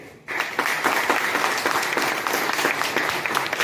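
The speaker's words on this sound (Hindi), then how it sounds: "तो एक ताली बजाइए।" Sudden, dense applause breaks out from the audience at an insurance sales seminar and keeps going as a steady, fairly loud patter of many hands for a few seconds.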